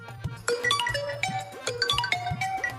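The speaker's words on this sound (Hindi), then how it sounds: "ओए सुनो, मोबाइल की घंटी फिर बज रही है" A mobile phone ringtone hidden under floor tiles plays a bright, repeating electronic melody of short tonal notes. It rings steadily throughout at moderate loudness, with a low hum underneath.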